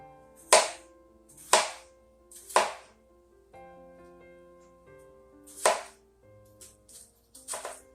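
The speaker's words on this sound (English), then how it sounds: "I'm just going to rough cut them, so this will be kind of a hearty," Knife chopping through chunks of pumpkin and vegetables on a cutting board for a hearty, chunky pumpkin soup: a handful of sharp, distinct thuds spaced about a second apart, then a few quicker lighter cuts.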